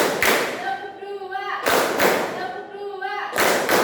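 Students in a vocational high school classroom clapping together on cue: three loud, sharp unison claps spaced evenly about 1.6 seconds apart, each followed by a short, sing-song call from a voice.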